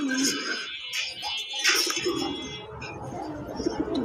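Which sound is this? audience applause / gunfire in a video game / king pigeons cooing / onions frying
king pigeons cooing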